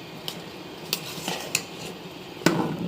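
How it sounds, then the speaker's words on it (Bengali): A spoon scrapes and clinks against a cooking pot while stirring sugar into freshly cooked khichuri, a few sharp metallic knocks spaced unevenly over soft scraping, close and alone. "চিনি দিয়ে ভালো করে নেড়ে মিক্সড করতে হবে।"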